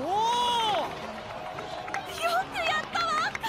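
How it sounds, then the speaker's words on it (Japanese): A cheering crowd in the Genshin Impact video game celebrates a young tribal warrior, with a loud voiced shout at first, then scattered whoops and excited calls over a busy murmur. "さあ、最高の祝福と熱烈な拍手を、部族の若き勇士カチーナへ"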